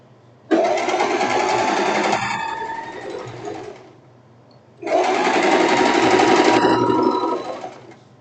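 A sewing machine stitches the armhole of a silk tank top in two long, steady runs separated by a short pause, close up and loud with no talking.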